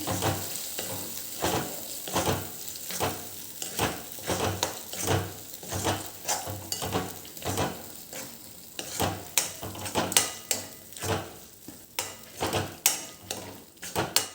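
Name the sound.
stirring a mixture in a pan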